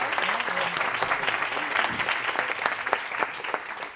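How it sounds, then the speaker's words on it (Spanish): Audience applause closing a doctoral training session on preparing a thesis, a dense, even wash of clapping from a sizable room with a few voices mixed in. "Bueno, pues le vamos a dar un aplauso."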